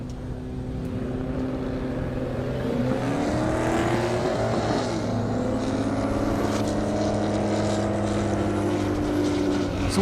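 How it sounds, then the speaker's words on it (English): A GTO race car makes a half-mile airstrip speed run, its engine droning as it climbs through several gear changes, steadily loud and sustained from a distance. "Chad Redder in the GTO"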